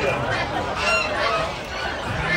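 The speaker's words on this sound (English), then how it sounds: "so we got chickens." Chickens at an Amish auction in Clarita, Oklahoma cluck and squawk close by, several calls overlapping in a busy, noisy burst.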